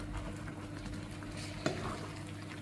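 Quiet stirring of coconut milk curry in a pot, soft swishing with a faint bubbling simmer and one light clink of the utensil.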